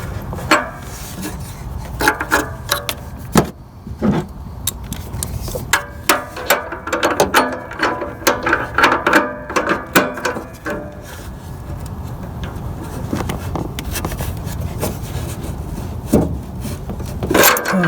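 A ratchet wrench tightens the socket on the upstream air-fuel oxygen sensor of a 2003–2013 Toyota Corolla, giving bursts of sharp clicking pawl strokes in uneven runs, close and fairly loud, mixed with metallic rubbing and pauses between turns.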